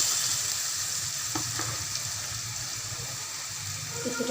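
Onions frying in oil in a pan give off a steady, close sizzle, with a couple of faint utensil clicks partway through and no voices.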